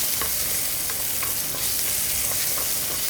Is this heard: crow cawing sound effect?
no